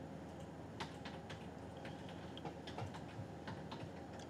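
Quick, irregular keystrokes on a computer keyboard as an IP address is entered, light clicks in short bursts over a steady low hum, fairly close and quiet, with no talking.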